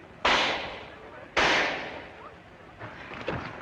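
Battle gunfire sounds as two loud, sharp blasts with long decaying tails, about a second apart, followed by fainter distant shots and rumble.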